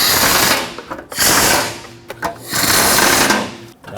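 A power tool whirs in loud, close bursts while snugging fog light bolts on a 2009-2014 Ford F-150 front bumper, with three spins separated by short pauses.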